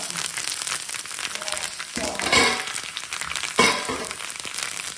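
Fish fries in hot oil with a steady, crackling sizzle close by, swelling into louder spattering bursts twice as pieces shift in the pan.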